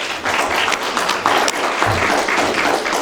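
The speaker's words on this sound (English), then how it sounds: "If we can give them a round of applause." A large audience breaks into continuous, dense applause, many hands clapping together at a steady loud level for a few seconds, with faint crowd murmur underneath.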